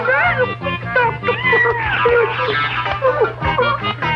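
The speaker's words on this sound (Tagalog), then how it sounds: "eh pusa lang yan" A cat meows repeatedly up close in drawn-out, wavering cries, with a steady low hum in the background.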